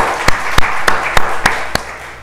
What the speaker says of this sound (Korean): 역시 박수 한번 쳐 올립니다